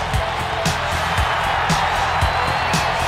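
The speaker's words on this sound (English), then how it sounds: "judging from the sound of this crowd, the expectation level is high for this one" Steady roar of an arena crowd in WWE 2K19 before a Lex Luger vs. Sting steel cage match, a dense continuous wash of cheering with a few sharper swells and thumps.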